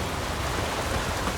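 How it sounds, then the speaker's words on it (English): Steady rain in The Witcher 3 fills the whole stretch as a dense, even hiss, close and continuous with no voices. "Oh, raining again."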